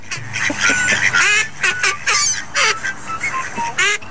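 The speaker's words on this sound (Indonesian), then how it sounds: "si bebek tertawa terbahak-bahak" A duck gives a rapid series of loud, close, cackling quacks that sound like hearty laughter, in bursts of varying pitch with little background noise.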